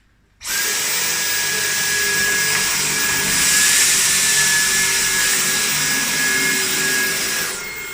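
Dyson V10 or Beko stick vacuum cleaner running on high power while picking up sand, a steady loud whine starting abruptly after a short silence and holding level before easing slightly at the end, with no talk.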